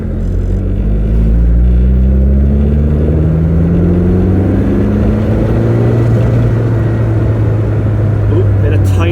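A 40-year-old Ford Capri turbo pulls hard from inside the cabin, its engine note climbing steadily and loud as it hits boost, with a brief voice near the end.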